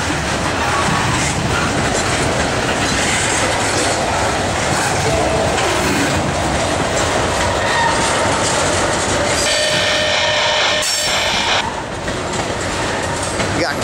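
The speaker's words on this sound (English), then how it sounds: "this crossover from the FFC line to the main, which is what 696 is taking" A CSX manifest freight train hauled by BNSF locomotives rumbles loudly past on a crossover at Mount Holly, with continuous close wheel roar and rail clatter and a brief dip as cars pass.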